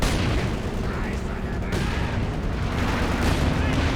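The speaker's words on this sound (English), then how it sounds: "A bit of mortar cover coming down now in the center." Mortar and artillery fire in Company of Heroes 2 during a 4v4 match on the Nordwind map, a dense continuous rumble of booms and gunfire bursts throughout, with a commentator's voice faintly mixed underneath.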